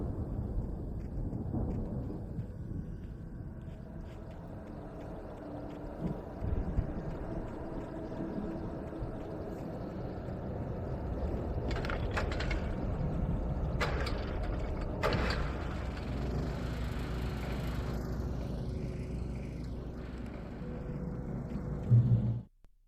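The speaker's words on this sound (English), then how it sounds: "The storm raged on as the Anderson brothers walked unsteadily away from the clinic" Stormy ambience in the video game Alan Wake Remastered, a steady deep rumble of wind and rain with occasional rolling thunder swelling in the middle, continuous and fairly loud throughout.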